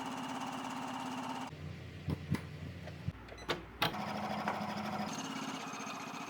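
Usha Memory Craft 550E embroidery machine stitching a pattern onto a saree, a quiet mechanical whir that shifts in pitch between sections, broken by a few short clicks and thumps midway.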